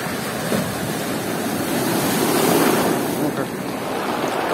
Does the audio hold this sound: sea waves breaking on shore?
yes